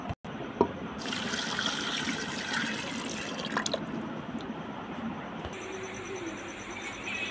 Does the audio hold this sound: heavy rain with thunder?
no